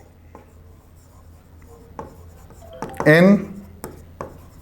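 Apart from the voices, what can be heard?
writing on a board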